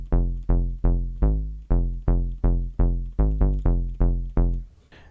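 Square-wave bass patch on the u-he Tyrell N6 with the filter cutoff lowered and envelope modulation, playing a steady run of about a dozen punchy, dark notes in an even rhythm, heard alone.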